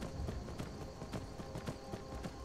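Horse hooves in the video game Skyrim Special Edition clip-clop in a steady trotting rhythm, fairly close, over a constant background rumble.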